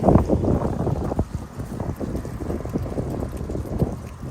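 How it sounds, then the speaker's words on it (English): Steady gusting wind rushes and buffets the microphone outdoors on a street in Bracebridge, Ontario, with scattered rustling and scraping of leaves skittering along pavement. "it won't be as windy, but the leaves are blowing down the street pretty good here"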